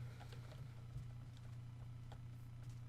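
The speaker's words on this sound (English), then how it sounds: "There's horses here" Horse hooves clip-clop in a Minecraft world near a village, a steady run of light clopping steps over a constant low game hum, with no voices.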